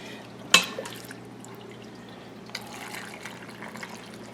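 Hot chicken broth pours into canning jars during hot-pack pressure canning, giving a sharp clink at the start, then a soft, steady trickle and splash of liquid that picks up again later, with no talk.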